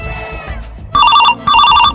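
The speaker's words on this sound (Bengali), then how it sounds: "দয়াকে একটা ফোন করি।" A telephone rings with a bright electronic ringtone in two loud repeated bursts, separated by a short pause, following a moment of quieter background sound.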